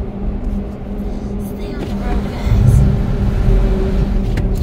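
Car exhaust rumble from vehicles inside a closed tunnel, a steady low drone that swells midway as a louder vehicle passes close, with a voice speaking over it.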